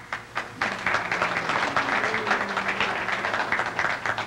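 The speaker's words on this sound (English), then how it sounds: "You can hold on the applause." A crowd at a Dodgertown baseball banquet gives steady applause, a dense wash of clapping that holds evenly throughout with a faint murmur of voices beneath.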